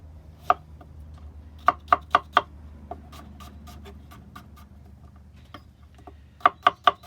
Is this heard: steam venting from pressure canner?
no